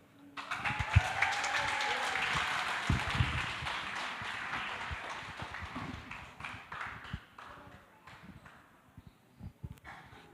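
An audience at a church youth talent contest final claps for the contestants, a dense burst of applause that builds quickly, holds, then thins out into scattered claps toward the end.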